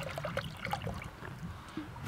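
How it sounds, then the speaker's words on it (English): Dish soap poured into a bucket gives a soft, continuous liquid trickle with small splashy glugs, close by and steady for a couple of seconds, with no talking. "we got here dish soap we're gonna pour it in a bucket"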